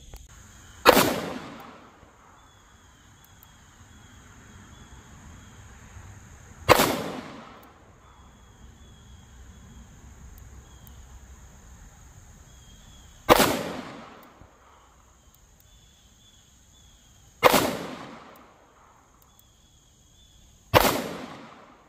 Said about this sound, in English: Only one shot hit that circle.